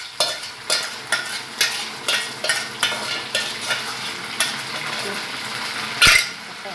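A spatula or spoon scrapes and stirs fried food with sauces in a pan at a steady rhythm, about a dozen clacking strokes over a low sizzle, closing with a sharper clatter.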